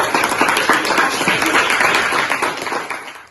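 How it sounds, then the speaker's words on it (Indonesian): Classroom applause for a student group: a short burst of many hands clapping close by, dense at first and tapering off over a few seconds. "tepuk tangan untuk kelompok 1"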